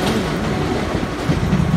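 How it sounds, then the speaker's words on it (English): A train climbs the steep Bhor Ghat incline, pushed from behind by two WCAM3 electric banker locomotives, giving a loud, close, continuous rumble with rattling wheels. "pushing the train from behind up the Bhor Ghat"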